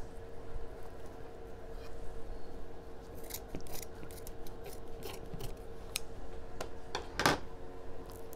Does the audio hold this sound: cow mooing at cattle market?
no